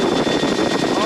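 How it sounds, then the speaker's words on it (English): Helicopter flaring to land, its engine and rotor making a loud, steady broadband drone with a throbbing edge throughout one brief stretch, with a voice talking over it. "we flare the aircraft, level the nose, and try and crash as gracefully as we can"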